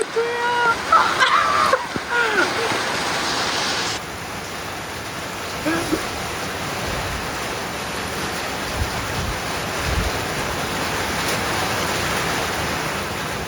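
Steady wet rain patter drums on the roof of a parked van, a broad continuous hiss heard from inside, with a few brief louder knocks and shuffles near the start.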